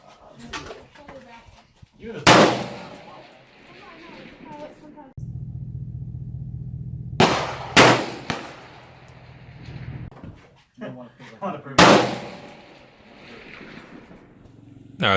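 Three M16A4 rifle shots fired at a 100-yard range, each a sharp, loud broadband crack spaced several seconds apart, with a steady low hum in between and faint background chatter.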